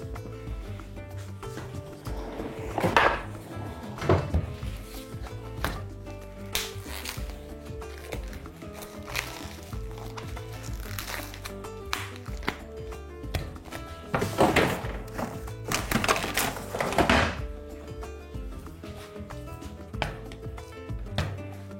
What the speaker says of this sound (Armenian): Կտրատում ենք հարմար չափերի։